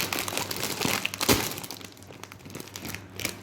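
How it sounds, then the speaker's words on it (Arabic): A plastic snack bag of toy surprises being torn open, with loud close crinkling and rustling in irregular bursts and one sharp rip in the middle, no speech. "يلا نفتح اول كيس"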